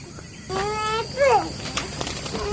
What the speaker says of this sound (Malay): Dah ada burung.